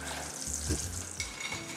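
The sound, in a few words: french fries frying in oil with pakoras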